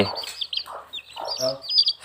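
Baby chicks raised by a beginner poultry keeper peep in quick bursts of high, thin chirps, close by and overlapping, with a few lower clucking notes from nearby fowl.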